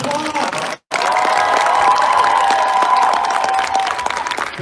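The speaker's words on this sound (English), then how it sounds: "Please join me in giving all of our classical teams a huge round of applause." Sustained applause from a large audience, steady and loud, with a brief silent gap near the start before the clapping resumes.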